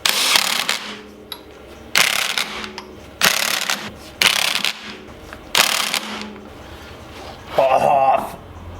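Impact driver with a taped socket tightening wheel nuts on an Escort Cosworth rally car replica, firing in six or seven short loud rattling bursts separated by brief pauses.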